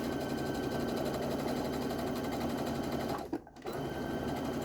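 A sewing machine runs steadily while stitching a costume garment, a dense continuous mechanical whir that briefly stops and then resumes near the end.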